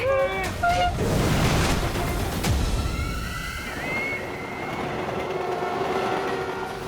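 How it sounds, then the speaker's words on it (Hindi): Trains rolling on a railway track, a loud continuous rumble with rail screeches and whistle-like tones, close and filling the whole scene, with a voice briefly heard over it. "दोनों ट्रेन एक ही ट्रैक पे चल रही है"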